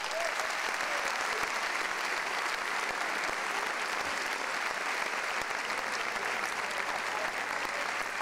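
Warm, sustained applause from an audience at a traditional dance show for the S. Nicolau festivities, a dense and even roar of many hands clapping throughout at moderate distance.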